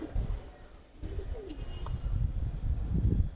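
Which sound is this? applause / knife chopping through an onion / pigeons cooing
pigeons cooing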